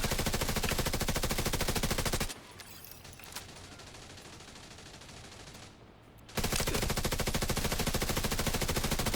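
Rapid automatic gunfire from a weapon in a video game, loud and continuous at the start, dropping out for a few seconds of quieter muffled ambience, then resuming as sustained rattling bursts to the end.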